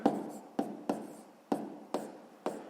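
Pen writing out math working for a sixth-grade exercise, with regular strokes roughly every half second, each starting sharply and trailing off, close and fairly quiet with no voice.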